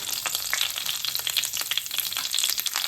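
Urad dal, mustard seeds and cumin crackle and pop in hot coconut oil in a pan, a dense, steady sizzle with rapid bright spits throughout, close and fairly loud, no voices.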